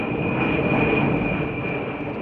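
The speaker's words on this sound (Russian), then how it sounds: "над полигоном появляются самолеты Ил-76" Il-76 transport aircraft passing over a military training ground, a loud, steady jet engine roar with a sustained high whine, continuous throughout and alone.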